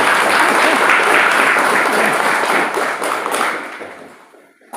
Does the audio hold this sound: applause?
yes